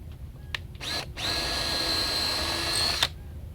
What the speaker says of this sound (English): I'm going to pre-drill it. That way I don't have to worry about splitting.